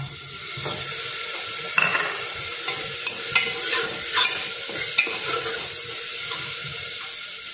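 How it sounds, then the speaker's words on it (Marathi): Spices and Malvani masala being sautéed in a pan for a Konkani masoor dal amti: a continuous sizzle with repeated scraping and stirring knocks from a utensil, fairly loud and close, with no talking. "आणि हे सगळं व्यवस्थित परतून घ्यायचं आहे"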